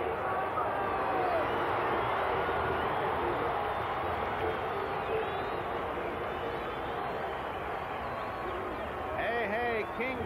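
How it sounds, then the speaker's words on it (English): A large baseball crowd at a Pirates–Cubs game in 1979 murmurs and builds into a steady roar as Dave Kingman comes to bat, with an announcer talking over it. "this crowd will react to this"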